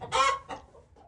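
Chickens cluck in a coop on a farm, a loud burst of clucks followed by a second shorter one and a few softer calls trailing off, close to the microphone with no talk over them.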